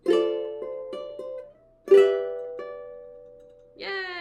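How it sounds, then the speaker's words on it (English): Plucked ukulele notes of a song ring out in a few quick picked groups, then a sustained chord and a final brighter strum, clear and close with no talking. "So that one sounds like this."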